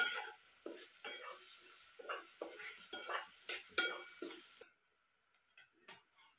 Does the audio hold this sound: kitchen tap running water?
no